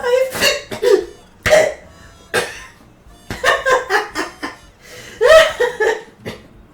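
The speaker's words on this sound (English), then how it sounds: "I choked on my own spit." Someone coughs in short, sharp bursts after choking on saliva, several fits spread across the stretch with brief gaps, close and fairly loud, some bursts almost laughing.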